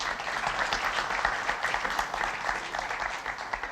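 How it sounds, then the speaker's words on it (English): Steady applause from an audience, many hands clapping at an even, moderately loud level throughout with no voices on top. "That deserves a round of applause,"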